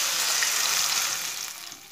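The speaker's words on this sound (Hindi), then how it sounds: "1 कप पानी डाल लेंगे।" A cup of water poured into a hot pan of lightly browned onions, giving a loud, steady sizzling hiss that slowly fades over about two seconds, with no voices.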